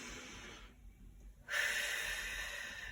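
A person breathes slowly while holding a foam roller glute stretch: a soft, airy exhale, a brief pause, then a louder, sustained breath close to the microphone.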